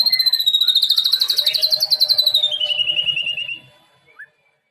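A white-rumped shama (murai batu) at a bird farm sings a loud, close, rapid series of rising and falling whistled notes for about three and a half seconds, then one short call.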